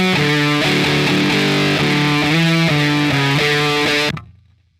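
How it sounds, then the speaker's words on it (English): A loud, heavily saturated electric guitar through an Electro-Harmonix Germanium 4 Big Muff Pi distortion pedal plays chords and riffs for about four seconds, then cuts off and rings out briefly. "So here is my distortion tone, just a nice saturated tone"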